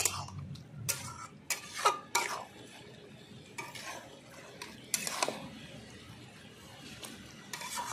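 Cooked mixed vegetables of broccoli, peas, carrot, beetroot and green tomato are stirred in a pan, sharp scrapes and clanks of the utensil against metal coming in bursts over a faint low sizzle, close and fairly quiet.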